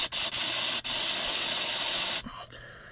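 Cleaner spray blasted onto a Detroit Diesel fuel injector, a loud hissing aerosol jet in three bursts with short pauses, the longest lasting over a second before cutting off.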